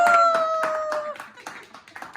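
A few people clap for a mother's birthday celebration at home in Ajman, with sharp, close claps that thin out and fade as they go on, while a voice and a tonal sound carry over the start.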